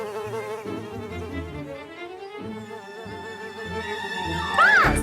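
A cartoon insect called the Fuzzer Buzzer gives a continuous buzzing drone with wavering pitch, steady and fairly close for several seconds, over music, with a sweeping accent near the end.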